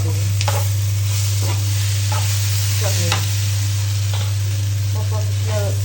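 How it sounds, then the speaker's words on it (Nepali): Thukpa broth boiling in a pot on a stove, with soft bubbling pops over a loud, constant low hum, with no voices. "थुक्पापट्टि छोडेर यसलाई उम्लिन दिनु।"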